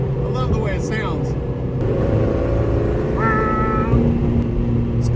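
A Suzuki Samurai with a 16-valve engine swap runs with a loud, rough low rumble that holds steady across the clip, close by, with a voice speaking over it.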